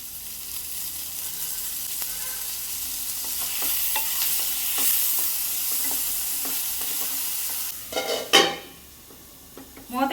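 Two chopped medium tomatoes sizzle steadily in a little oil in a pan for a cashew, pea and paneer curry, with repeated close spoon scrapes and taps while stirring and a louder clatter of cookware near the end; no one speaks.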